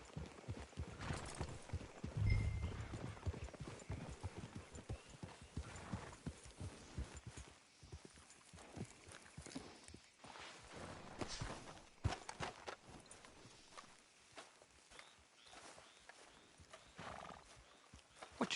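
Hooves clip-clop at a walking pace while horses snort and whinny now and then, set against quiet outdoor ambience, in the video game Red Dead Redemption 2.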